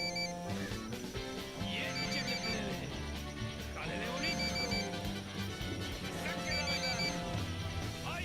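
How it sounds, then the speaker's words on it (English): An electronic phone ring repeats in regular bursts over a busy Ghost Recon: Wildlands soundtrack with music and background noise. "Yeah, I hear the phone ringing."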